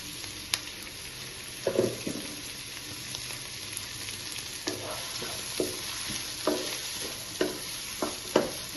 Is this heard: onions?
yes